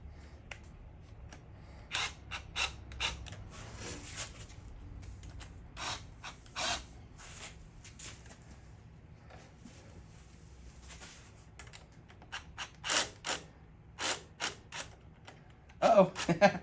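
A ratchet and socket turning a bolt, clicking in short bursts of rapid ratchet strokes with pauses between, close and fairly loud, ending with a louder clatter of tools.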